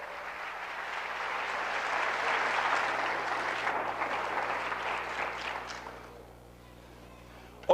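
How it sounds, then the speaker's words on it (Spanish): A congregation applauds Christ during a Sunday morning sermon; a full, steady roar of clapping swells and then fades over several seconds before a sharp sound at the very end. "Denle un aplauso a Cristo pues en esta mañana"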